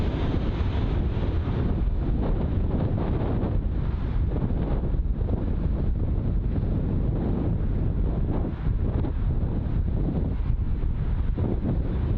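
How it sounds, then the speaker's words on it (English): Strong gusting wind buffets an outdoor microphone beside a windy Heathrow airfield, a dense continuous low roar with rumbling surges and thumps, loud and close throughout with no voices. "the wind is definitely hammering me around"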